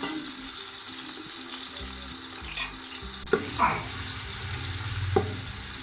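Ginger garlic paste frying in oil in a pan, a steady soft sizzle with occasional stirring scrapes and clinks, close but fairly quiet, no talk.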